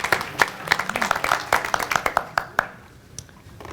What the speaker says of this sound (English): So, round of applause for all the winners for last month.